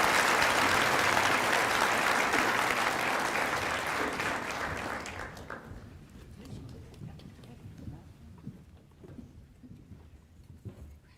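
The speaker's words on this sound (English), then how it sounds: "Please, a round of applause for the Rocky Heights Middle School athletes." Loud audience applause at a school sports luncheon honoring middle school athletes, dense clapping for about five seconds before fading into quieter room noise and scattered murmur.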